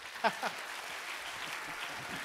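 Applause from an audience for Professor Ei-ichi Negishi after a dialogue event, a soft, steady wash of many hands clapping at some distance, with a brief voice near the start.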